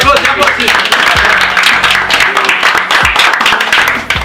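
Audience applause at a lively gathering, dense sustained clapping filling the whole stretch, loud and close, with voices mixed in underneath.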